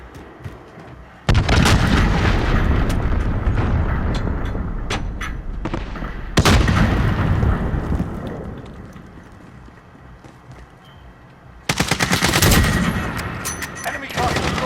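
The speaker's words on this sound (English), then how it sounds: "Allied cruise missile away." Cruise missile strike explosions in Call of Duty: Modern Warfare come as heavy booming blasts in three big bursts, each trailing into a rumbling decay, with crackling gunfire in between.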